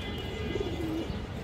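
Pigeons of an old bred line coo softly in a brief, low murmuring call, heard close against a steady background hum with no voices.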